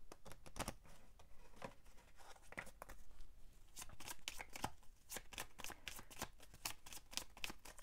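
Petit Lenormand cards are shuffled by hand, producing rapid, crisp, close riffling flutters in repeated bursts, quiet and steady with no speech.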